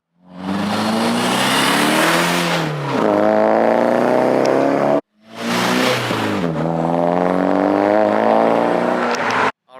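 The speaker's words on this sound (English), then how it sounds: "So we just came back on a little ride along with Chris's S15 Silvia." Nissan S15 Silvia turbo car with a Reinhardt dual exit exhaust and resonator delete revving loudly up and down in two long close bursts, each rising then falling away before cutting off, with no talking.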